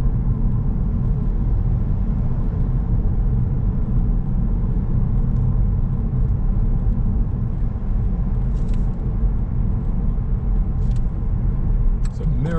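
A car approaching Millbrook Roundabout from the Totten direction gives a steady low interior road rumble and engine hum throughout, with faint ticking clicks near the end.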